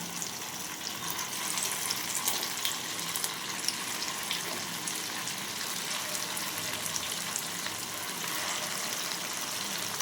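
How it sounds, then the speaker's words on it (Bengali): Semolina and potato tikki snacks frying in hot oil over a low flame, an even, sustained bubbling sizzle with faint crackles throughout, alone without speech. "এক এক করে এই স্ন্যাক্সগুলো আমি ছেড়ে দেবো ভাজার জন্য"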